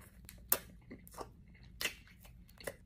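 Close chewing and crunching on Filipino bakery pastries and empanadas, with several soft bites and crunches spaced irregularly at low volume, no talking.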